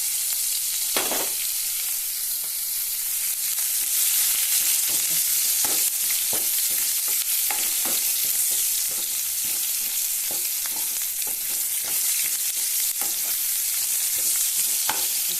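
Onion, bay leaf and a chili fry in oil left over from frying fish for an Assamese fish curry, a continuous bright sizzle with frequent scraping stirs and clicks of a spoon against the pan, close and without voices.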